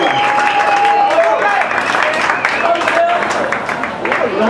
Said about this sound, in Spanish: Daniel Duque, también un aplauso para él, de Manizales, de Corteca.